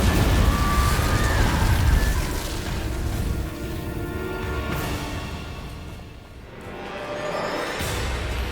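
A fire spell cast in the Hogwarts Legacy video game, a loud rumbling burst of flame that roars and fades over several seconds, then swells again with crackling whooshes.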